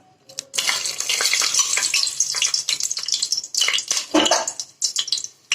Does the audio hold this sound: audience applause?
no